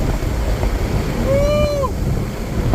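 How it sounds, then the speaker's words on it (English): Wind noise buffets the open cabin of a BMW Z4 M40i convertible while driving, a loud steady rushing roar, with a brief rising-and-falling tonal whistle or voice-like note over it. "It's hard to hear with the wind noise though."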